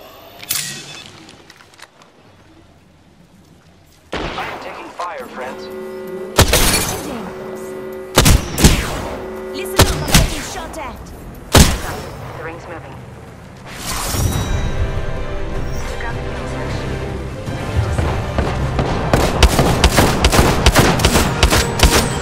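Weapon fire from the Apex Legends video game, with loud sharp bursts and rapid automatic volleys repeating through the clip, close and dominant, interspersed with impacts and game effects.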